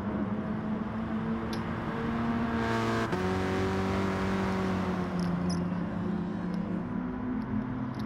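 A race car laps a small track, its engine droning steadily from inside the car, rising and falling in pitch as the driver shifts and comes off the throttle, moderately loud and continuous with no talk.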